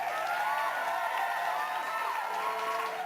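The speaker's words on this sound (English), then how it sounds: "and the crowd went bananas" A large audience cheers at the Sony PlayStation 4 launch press conference, a steady, somewhat distant crowd roar with whoops blended in, holding at an even level throughout.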